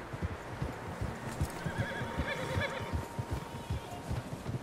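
In the video game Red Dead Redemption 2, several horses neigh and whinny over a steady bed of hoofbeats clip-clopping, a busy herd close by with no talking.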